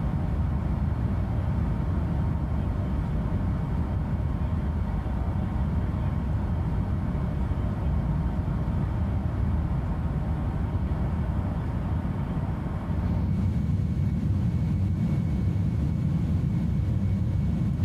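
Aer Lingus Airbus A310 engines roaring steadily during takeoff in Microsoft Flight Simulator 2020, a dense continuous low rumble that shifts slightly in tone near the end, no talk.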